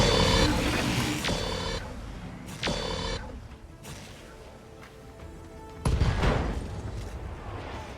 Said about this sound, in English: We created an ammo explosion.